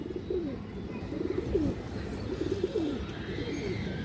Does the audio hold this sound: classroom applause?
no